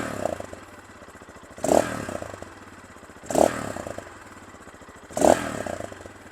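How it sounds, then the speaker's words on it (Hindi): Three revs of a Zonsen Carrera 250 motorcycle engine rise and fall at steady intervals over a low, muffled idle, each burst brief and throaty. "बड़ी ना एक मफल्ड किस्म की साउंड है इस मोटरसाइकिल की।"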